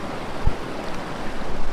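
Cold glacier-fed river water lapping at a rocky shore in Kashmir's Keran Valley, a loud continuous rushing wash with a couple of brief splashes and some wind buffeting, with no voices.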